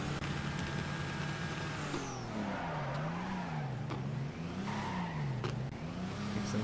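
A BMW drifting in the Torque Drift mobile racing game, a steady engine drone rising and falling in pitch with faint tire noise, continuous and moderately quiet.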